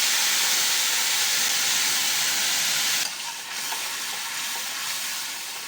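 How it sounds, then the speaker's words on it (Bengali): A loud, steady sizzle and hiss as a cumin and chili powder paste hits hot oil after cumin seeds for a fish curry, easing slightly after a few seconds and continuing close to the mic with no talking. "প্রথমে আমি জিরে ফোড়ন দিয়ে দিচ্ছি।"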